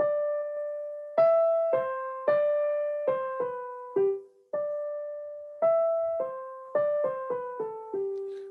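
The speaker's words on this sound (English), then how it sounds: "So the tune for this piece sounds a bit like this on the right hand." Solo piano plays the right-hand melody of Praetorius's Procession in G Major, a steady stately line of clear single notes at an even moderate tempo, close and alone with no talking.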